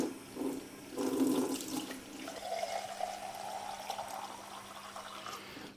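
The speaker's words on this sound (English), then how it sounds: "We're just going to put some cold water in there." Cold water running from a tap into an empty tin on a building site, a steady close splashing pour that settles into a fuller, smoother stream as the tin fills.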